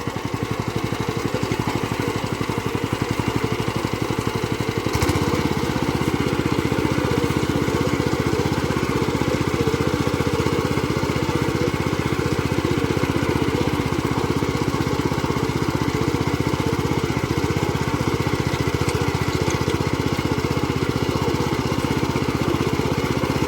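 A motorised tiller runs steadily in first gear while hoeing around lemon plants, its engine giving a continuous close, loud chugging drone that settles after a brief rougher start, with no talk.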